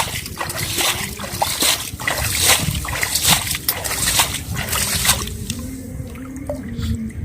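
Muddy water splashes and sloshes as it is drained out of a rural mud hole where crabs, tilapia and tengra fish were caught, with choppy wet bursts and squelches up close that thin toward the end.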